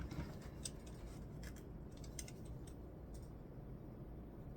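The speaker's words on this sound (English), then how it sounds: "Using my Fiskars rotary cutter" A Fiskars rotary cutter cuts pipe cleaners, giving a few faint, brief scraping slices over a quiet low rumble, close but soft.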